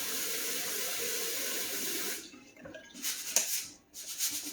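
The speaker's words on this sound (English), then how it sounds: "You want to rinse it until it's clear." Rice is rinsed under running water from a kitchen tap, a loud steady stream for about two seconds, then quieter sloshing and intermittent splashes as the grains are swirled.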